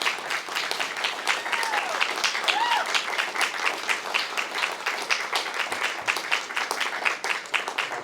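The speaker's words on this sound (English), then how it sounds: "Let's give Judge Bereola a round of applause." Sustained audience applause for a judge at a criminal justice reform event, dense rhythmic clapping from many hands, with a few voices calling out early on.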